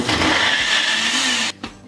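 A countertop blender runs loudly at a steady whir while making almond milk, then cuts off abruptly near the end.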